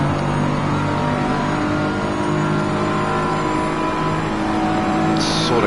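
McLaren and BMW race cars driving in a racing video game, a loud, steady engine drone at high revs, continuous and close throughout with slight pitch shifts, without talk.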